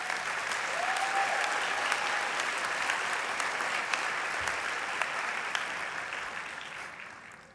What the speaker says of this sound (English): You deserve some applause too.